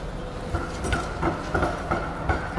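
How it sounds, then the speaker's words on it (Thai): A Melbourne tram rolls along its rails with a steady low rumble and rhythmic clacks of wheels over track joints, fairly close and continuous, with no talk. "รอขึ้นเจ้ารถรางนะคะ"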